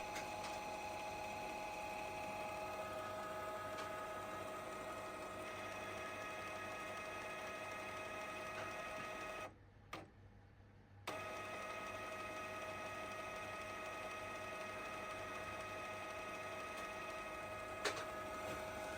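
A Canon G3010/G2010 inkjet printer runs its print head cleaning with a steady mechanical whir and small ticks, continuous and close, dropping out for about a second midway before resuming.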